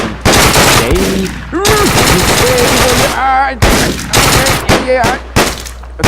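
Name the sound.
gunfire in video game Deadbolt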